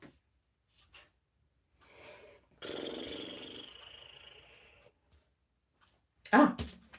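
A dog growls and snorts close by, trying to get into the room, in bursts with pauses, plus a sharp loud noise near the end.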